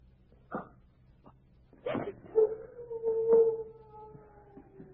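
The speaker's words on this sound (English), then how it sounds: "It's only one of the dogs." A single dog lets out a long, wavering howl at moderate distance, preceded by a few short yelps and soft knocks in an otherwise quiet room.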